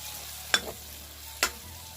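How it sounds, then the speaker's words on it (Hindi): Tomatoes and spices fry in a pan for an aloo matar curry, a low steady sizzle with two sharp stirring scrapes standing out briefly above it. "1 मिनट तक के ना इन सबको अच्छे से भून लेंगे, जब तक कि टमाटर अच्छे से गल नहीं जाते और मसाले पक नहीं जाते।"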